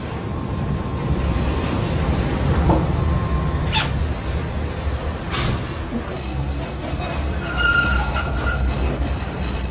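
An automatic Docklands Light Railway train runs steadily with a constant rumbling roar, occasional clanks and a faint wheel squeal, no voices.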